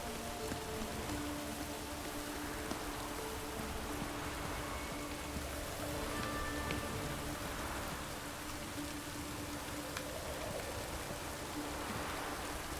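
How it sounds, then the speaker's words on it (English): Steady rain falls throughout in The Witcher 3 video game, a dense even hiss of drops with faint tonal hums beneath, no voices. "Doing this in the rain, such a great idea."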